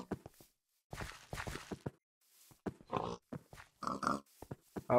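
Pig oinks and grunts in the Minecraft video game, a series of short, close game-sound bursts with brief gaps, fairly loud against a quiet background.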